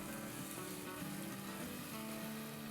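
Green chili, garlic and ginger pastes with tomatoes sizzling in a hot pan as they are stirred, a steady close frying hiss with faint scraping.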